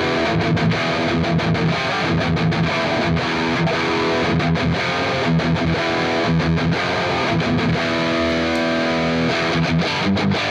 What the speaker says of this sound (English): here's some tone demos of these three voicings on some dirty and clean tones.